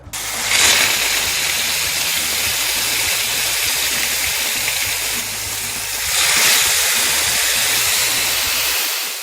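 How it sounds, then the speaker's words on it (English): Fish laid skin side down in a hot pan, frying with a loud steady hiss and crackle that swells at the start and again midway, no voices. "make sure you put the fish skin side down first on the pan"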